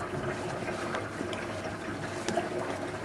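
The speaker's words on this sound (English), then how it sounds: "Pull the plug, let the water out." Water trickling and splashing out of an opened PaleKai waterproof case for an iPhone 4 after its plug is pulled, a steady, close, low gurgling drain with no talk.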